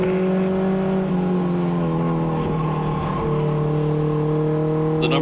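Race car engines roar at a short-track speedway during an Allison Legacy Series event, a loud sustained drone with strong harmonic tones that shifts pitch slightly as cars pass, continuous throughout.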